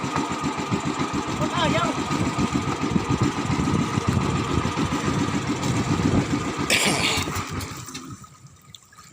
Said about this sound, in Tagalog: Pinatay na lang namin yung makina guys kasi ayaw talaga magpahila.